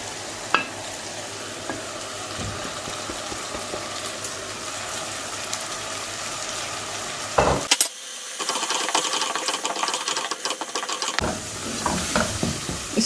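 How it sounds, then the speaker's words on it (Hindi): Ground spices fry in a pan with potato and aubergine for aloo baingan sabzi, giving a steady, close hiss with a few soft stirring knocks and a brief louder clatter midway before the sizzle resumes. "इसको थोड़ी देर भूनेंगे जो सारे स्पाइसेस हैं ताकि इनका अच्छे से फ्लेवर निकल के आए"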